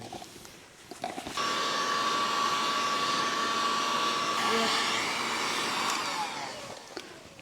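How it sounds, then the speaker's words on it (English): A heat gun blows steadily on a dirt bike wheel hub, a loud continuous whooshing roar with a faint whine that starts abruptly, holds for several seconds, then dies away with handling clatter. "we're gonna heat this side a little bit. So I'll get the heat gun."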